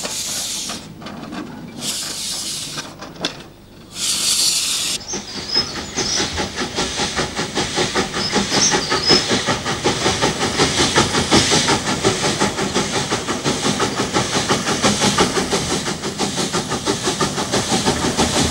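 A narrow-gauge Mogul steam locomotive on Spain's La Robla railway, with sharp bursts of steam hiss at the start, then a loud, steady rhythmic exhaust chuff and rolling clatter that carries on without talk.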